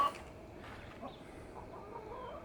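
Backyard chickens cluck softly and intermittently, fairly quiet and close, with no one talking.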